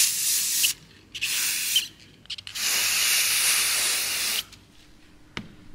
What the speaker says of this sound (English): So I use this matte clear Rust-Oleum spray to help seal them.